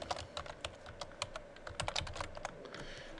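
Someone types on a computer keyboard in a classroom lab, a quiet run of irregular key clicks over a low room hum.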